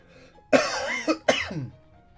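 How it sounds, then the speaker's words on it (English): A person coughs close to the microphone in a short cluster of two or three harsh, rasping bursts with a throaty edge, then falls quiet, with no talking. "this cough's ever going to leave me"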